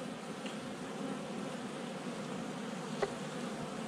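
Honeybees from a captured swarm buzz around open hive frames in a steady, soft, dense hum, with one brief knock partway through and no talking.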